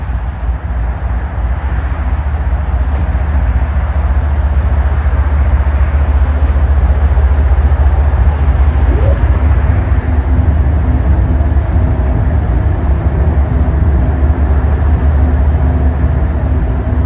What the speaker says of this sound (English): we see Union Pacific train MPR8H going over the Chicago Eisenhower with Norfolk Southern 8104, the Lehigh Valley Heritage